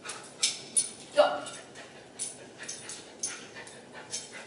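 A dog plays tug-of-war with a toy, giving soft rhythmic panting huffs and faint whimpers at a steady pace, close by, while a person talks over the play.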